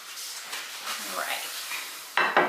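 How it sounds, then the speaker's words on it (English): A mixture is stirred in a greased 8x8 pan for iced coffee Knox nibbles, giving a steady close scraping and swishing with two sharper clinks of utensil on pan near the end and no talk. "I'm just going to stir this up a little more"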